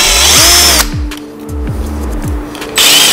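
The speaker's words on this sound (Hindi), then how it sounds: "जो हमारा क्लैंप है कार्बोरेटर का, इसको हम ढीला करेंगे" Power tool loosening the carburetor clamp on a Hero Ignitor 125cc motorcycle, a loud close whine at start and end, with several descending rattling pulses from the tool between them, no voices.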